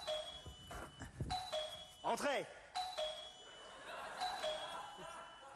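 A doorbell chimes a few times amid background noise, with a person laughing briefly and a voice speaking near the end.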